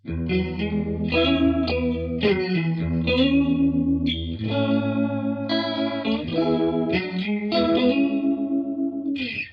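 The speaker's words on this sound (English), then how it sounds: "the further up you turn the control knob, the more intense and crazy the flanger sound gets" Electric guitar chords strummed through a sweeping, whooshing flanger effect from a Zander Circuitry Junipero pedal, the tone swirling and shifting continuously with no voices.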